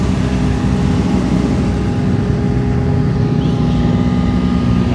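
Sports cars, among them a GT500, arriving at an American car show, with a steady loud engine drone and rumble running continuously throughout, close and unbroken.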